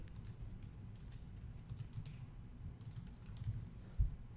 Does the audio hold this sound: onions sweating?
no